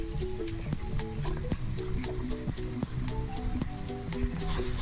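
Potatoes frying in a pan for a Filipino home-cooked dish, a steady close sizzle and crackle with faint stirring taps running throughout.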